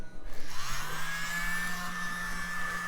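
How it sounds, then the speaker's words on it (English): Mini air blower hissing onto a bronze sculpture, a steady close whirring rush that rises at the start and holds for a few seconds. "I wonder if I should use a little bit of mini blower"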